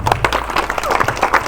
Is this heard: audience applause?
yes